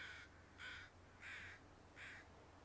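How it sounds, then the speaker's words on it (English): Four evenly spaced crow caws in the video game The Long Dark, moderately loud, over a low steady background hum. "Hear lots of crows."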